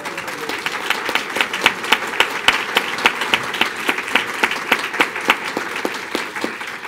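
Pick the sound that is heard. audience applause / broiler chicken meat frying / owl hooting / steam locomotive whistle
audience applause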